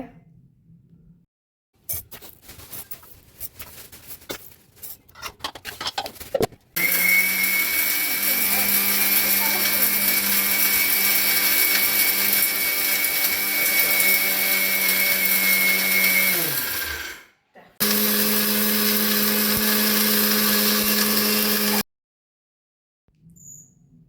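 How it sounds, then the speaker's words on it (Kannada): A kitchen mixer grinder pulverises homemade sambar powder in its jar: after some handling clatter, a loud steady motor whine runs for about ten seconds, stops briefly, then runs again for several seconds before cutting off. "ಇವಾಗ ನಾವು ಮಿಕ್ಸಿ ಜಾರ್ಗೆ ಹಾಕಿದರೆ ಸಾಂಬಾರು ಪುಡಿ ರೆಡಿ ಆಗುತ್ತೆ"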